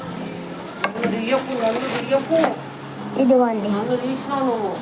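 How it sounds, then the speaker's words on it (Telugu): A ladle stirs egg curry in a pan, scraping and swishing over a steady sizzle of frying, while someone talks over it throughout. "ఇప్పుడు గడత తీసుకొని కలుపుతా అండి"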